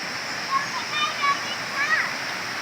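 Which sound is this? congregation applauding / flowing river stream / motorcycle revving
flowing river stream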